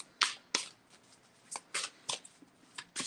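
A deck of cards being shuffled close up, a few quick riffling bursts separated by brief pauses in an otherwise quiet room.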